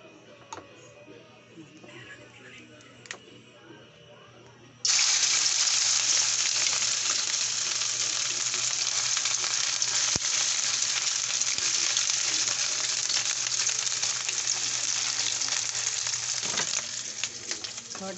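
A shrimp omelette (tortang hipon) sizzles in a frying pan. After a few seconds of quieter background, a loud, steady frying hiss starts and holds continuously to the end with faint ticks.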